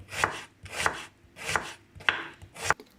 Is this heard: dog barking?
no